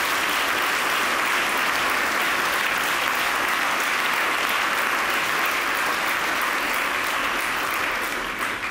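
An audience applauds at the BigBrotherAwards 2014 ceremony, dense, steady clapping that fills the room without pause and tapers only slightly at the end.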